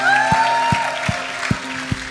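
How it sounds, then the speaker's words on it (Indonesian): A church congregation claps during a baptism service, a diffuse steady patter with a few sharper hits, while a voice sings or sustains a tone over it at the start. "Ayo saudara, berikan tepuk tangan untuk Tuhan kita"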